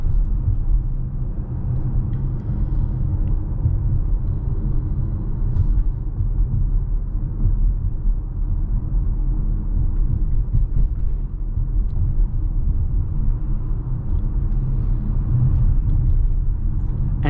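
A car drives at speed on a highway outside the city on 19-inch wheels, giving a steady, dense low rumble of road and tire noise that holds unbroken throughout, with no talk.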